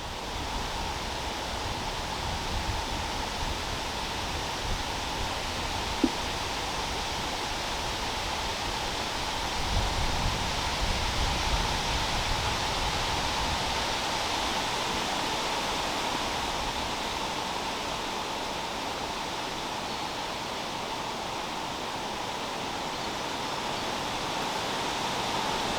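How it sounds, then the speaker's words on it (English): Wind blowing through trees along the Cotswold Way between Painswick Beacon and Birdlip, a steady broad rushing of leaves heard up close, continuous and fairly loud throughout with no voices. "The wind's got up here and now the leaves are showing their undersides."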